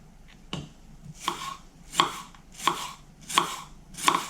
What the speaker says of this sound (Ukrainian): Нарізаємо цибулю.